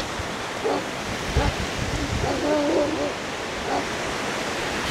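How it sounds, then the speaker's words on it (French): Strong wind buffets an outdoor microphone with steady roaring rumble and gusty swells, while faint voices or calls surface intermittently in the background. "Putain, il y a un vent."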